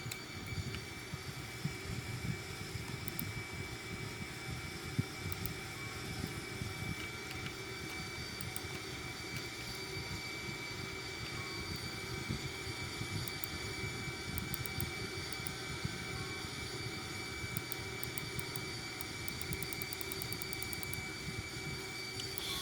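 Airbus A340 engines on approach with landing gear down in a flight simulator, a steady low jet drone with a constant whine, even and moderately loud throughout, no talk.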